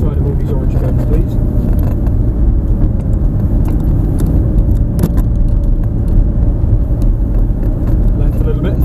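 A Lamborghini engine is accelerating with a steady, deep, close-up roar that holds throughout, and a person talks over it the whole time.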